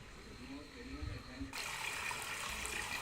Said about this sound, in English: I love the streams, small streams.